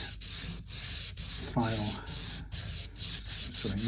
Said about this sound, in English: using the sandpaper to begin with, and then when we're pretty close, then we set the nut in